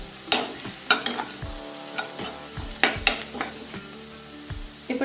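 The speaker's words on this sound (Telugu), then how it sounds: "ఇప్పుడు మనకు ఆనియన్ ఫ్రై అయిన తర్వాత దీంట్లో కొంచెం చిటికెడు పసుపు వేసుకుంటున్నామండి" Onions frying in a pan with a pinch of turmeric added while cooking amaranth leaf stew, loud close sizzling broken by repeated sharp spatula knocks and scrapes, with no speech.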